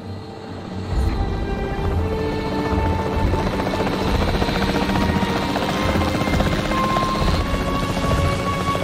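Capture team helicopter in the video game Jurassic World Evolution 3, a loud, steady rotor and engine drone that holds close and continuous throughout.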